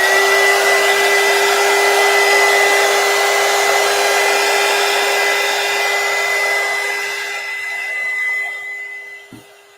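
A hair dryer blows steadily at close range while drying paint on a painting during a painting class, a continuous whooshing drone with a faint whine that runs for most of the time, then tapers off and cuts out near the end.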